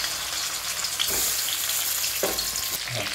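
Stuffed eggplants fry in hot oil, a bright continuous sizzle close by, broken by a few sharp knocks and scrapes as they are moved in the pan.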